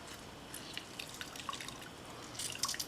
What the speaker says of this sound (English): Squirt that juice in that water.